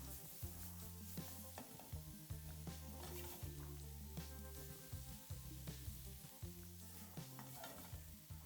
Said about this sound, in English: Next we add our peppers, including the chili, and soften them for maybe 4 or 5 minutes.